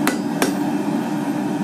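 Two sharp hammer blows ring out close and loud on hot steel while tongs are forged, the second about a third of a second after the first, followed by a steady burner roar.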